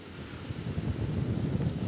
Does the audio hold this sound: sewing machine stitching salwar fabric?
no